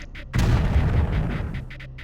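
A mortar fires in the Creeper World video game with one sudden loud boom that decays into a rumbling tail, with small blips before and after it.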